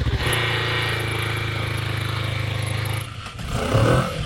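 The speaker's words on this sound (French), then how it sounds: "écoute ton moteur, pied de gaz, très propre" A motorcycle engine runs loud and close with a fast pulsing idle, then drops off abruptly before a brief rough burst of revving.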